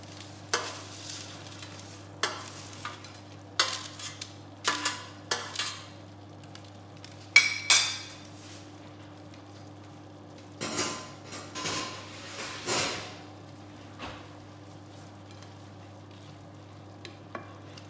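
French fries frying in a pan for chips masala, a low steady sizzle with repeated scraping and stirring clatters of a utensil against the pan, fairly quiet, no voices.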